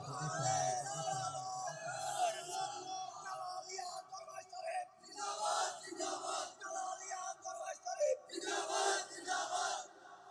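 A crowd at a Bangla religious gathering chants the takbir, Allahu Akbar, in loud, reverberant massed shouts, rising in waves across a large space.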